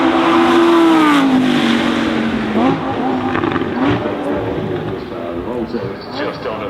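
Lamborghini hybrid hypercar of about 1,000 horsepower driving flat out, a loud engine note rising and falling through gear changes as it passes, with a voice talking over it.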